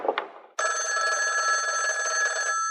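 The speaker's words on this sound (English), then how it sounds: "Telephone's ringing." A telephone bell rings continuously in a radio drama scene, loud and steady with a bright metallic trill, starting abruptly after a brief bit of muffled talk.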